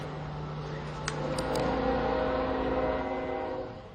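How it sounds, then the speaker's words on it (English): A train passing by outside a classroom makes a broad, steady rumble with a low hum that swells in the middle and slowly eases off. A few brief higher squeals come through, and no one speaks. "We'll wait till that train passes."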